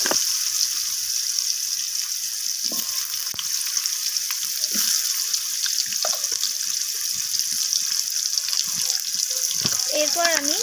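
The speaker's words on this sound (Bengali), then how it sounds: "কেটে রাখা ওলকপিগুলোকে দিয়ে দিলাম আলুর মতো করে ওলকপিগুলোকে লালচে করে আমি ভেজে নেব" Kohlrabi pieces fry in hot oil, making a steady, close sizzling hiss that runs throughout, broken by occasional soft clatters from a spatula.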